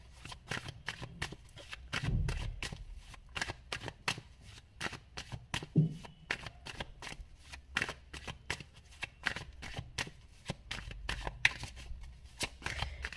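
Tarot cards shuffled by hand in a long run of crisp, rapid riffling bursts, close and fairly quiet, with no talking.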